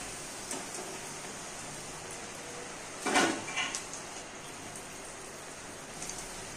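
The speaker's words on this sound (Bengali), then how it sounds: "আলুটাকে কিছুক্ষণ ভেজে নেব। এবারে আলুটা যতক্ষণ না মুচমুচে হয় ততক্ষণ পর্যন্ত ভেজে নিতে হবে।" Potato strips for French fries fry in hot oil on a high flame, giving a steady, even sizzle with a short clatter partway through and faint ticks near the end.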